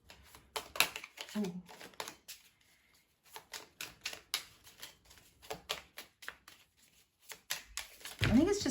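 Tarot cards shuffled and drawn in quick papery riffles and flicks, close and fairly soft, with a short voiced exclamation and brief speech in between.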